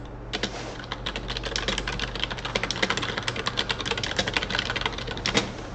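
Fast, steady typing on a computer keyboard, a close run of crisp key clicks with no talking.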